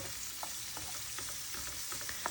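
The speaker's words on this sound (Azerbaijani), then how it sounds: "Üzərinə yağ əlavə edib bunu qovrulmağa qoyuram." Chopped onions frying in oil in a pot for a cauliflower dish, a faint steady sizzle with small crackles and pops, no voices.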